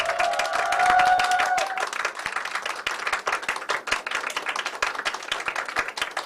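A seated audience at a youth and social-worker meeting claps, starting as a dense round over a sustained tone and thinning into scattered individual claps that tail off toward the end.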